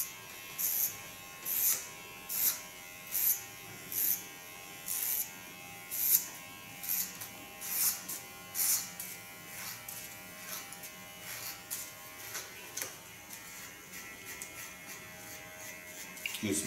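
Electric hair clipper cutting hair on a woman's short asymmetric side cut, a steady buzz under repeated short bursts as the blade passes through the hair in a regular rhythm, close and fairly quiet.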